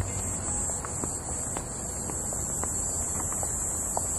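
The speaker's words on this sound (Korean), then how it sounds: "귀뚜라미 소리가 엄청 잘 들려요." Crickets chirping at night in a park on the outskirts of Seoul, a dense continuous high-pitched trill over a low background hum and scattered faint clicks, with no voices.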